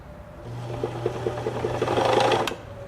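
The bobbin winder on a JC Penney 6101 sewing machine runs with a steady close whir and light rattle for about two seconds, then cuts off with a click.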